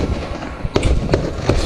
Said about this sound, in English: I could hear the fireworks when Peñarol was playing.